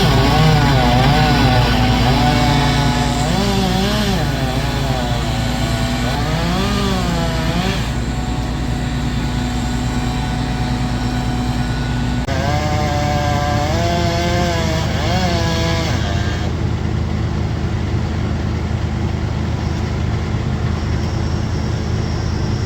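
A chainsaw cutting down a tree runs loud and close throughout, its engine pitch rising and falling as it revs and bogs through a series of cuts.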